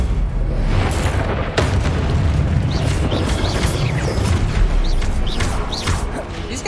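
Fiery Incendio spell blasts in the Hogwarts Legacy video game, a dense, continuous roar of booming bursts and crackling impacts running loud throughout the whole stretch.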